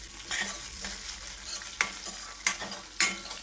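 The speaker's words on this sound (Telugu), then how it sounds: "లో ఫ్లేమ్లో వీటిని దోరగా వేయించుకోవాలి" Lentils, cumin, curry leaves and coriander seeds roast on a low flame, heard as a faint crackle under a few sharp scraping stirs of a spoon across the pan, with no talking.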